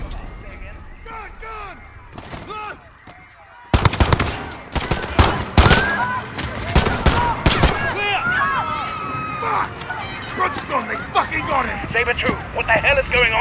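Gunfire erupts in the Call of Duty Modern Warfare (2019) campaign: dense, loud bursts of rapid shots and heavy blasts that break out abruptly after a quieter opening with voices, then continue amid shouting.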